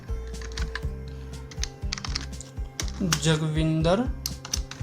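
Computer keyboard keys clattering in quick uneven bursts during data entry in Tally ERP9 accounting software, close and clear, with a person talking over part of the typing.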